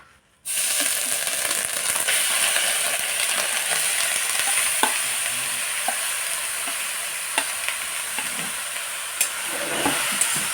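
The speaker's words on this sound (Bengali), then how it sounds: "কড়াইয়ে সামান্য রিফাইন তেল দিয়েছি, তেল গরম হয়ে গেছে। এবার আমি নারকেলগুলো দিয়ে দেব।" Grated coconut hits hot refined oil in a wok, bursting into a loud, steady sizzle and crackle that continues alone after a brief quiet start.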